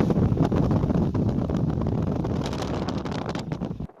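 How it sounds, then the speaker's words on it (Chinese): Strong mountain wind roars through the Devil Peak area along an exposed road, a loud, close, buffeting rush that batters the microphone continuously before cutting off abruptly. "魔鬼峰区的风有多大？ 这段原声可以带来直观感受。"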